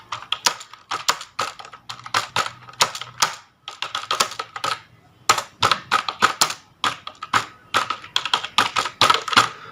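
Rapid bursts of keystrokes on a computer keyboard as a description is typed into a WordPress editor, clicking in quick irregular runs with brief pauses between words, close and clear with no talking.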